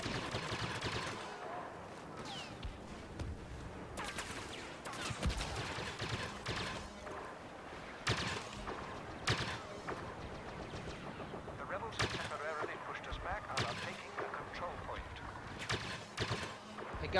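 Turrets in Star Wars Battlefront keep up dense, rapid blaster gunfire, rattling bursts and sharp cracks layered over a busy battle din, with occasional louder shots.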